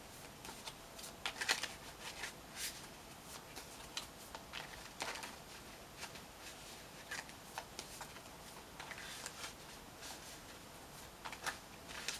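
Tarot cards are shuffled quietly and repeatedly, soft riffling and flicking bursts in an uneven rhythm, close and faint, with no voices.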